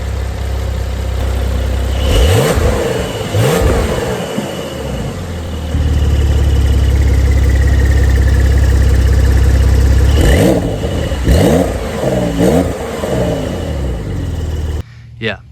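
A 2022 Porsche 911 GTS Cabriolet's six-cylinder engine idles and then revs repeatedly through its exhaust, several sharp blips followed by a long sustained rev, loud and close, with someone talking between bursts.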